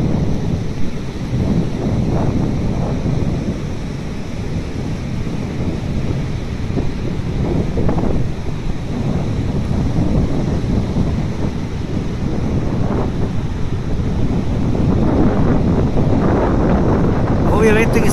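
Stormy sea swells and heavy surf pounding the coast at Concón during July storm surges, a continuous low roar with rumbling breaks and strong wind buffeting the microphone.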